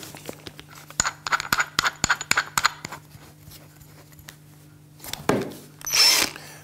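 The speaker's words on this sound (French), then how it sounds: "vous venez enrouler toute votre soie et votre backing avec votre perceuse, votre visseuse, par-dessus" A cordless drill driver turns a fly-fishing reel to wind on backing and line, giving a rapid series of sharp ticking clicks followed by short whirring bursts of the motor, close up and with no talking.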